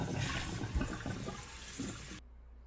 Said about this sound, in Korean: 데친 호두를 찬물에 헹궈줍니다.